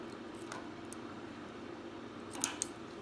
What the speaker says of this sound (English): I'm gonna cut it right here on this line.